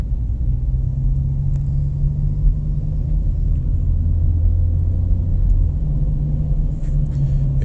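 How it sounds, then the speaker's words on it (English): Backed-up road traffic makes a loud, steady low rumble of idling and creeping engines close by, continuous throughout with no talking. "Yeah, the traffic is really backed up."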